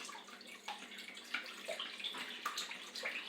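Water being poured into whole wheat flour for sourdough bread dough, a steady, moderately quiet splashing stream running throughout with no speech.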